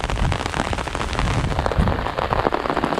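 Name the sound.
rain falling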